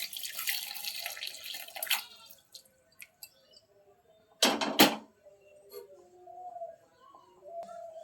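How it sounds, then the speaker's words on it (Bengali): Hot water poured into a pot of soaked mung dal for an eggplant dal, a splashing pour at the start and a short louder splash midway, followed by quieter drips and faint kitchen clatter. "এর মধ্যে দিয়ে দিচ্ছি গরম জল"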